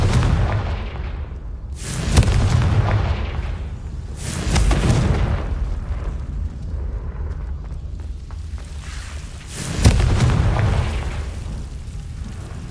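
Confringo blasting spells explode in Hogwarts Legacy gameplay, three booming bursts spaced several seconds apart, each with a sharp onset and decaying rumble over a low background bed.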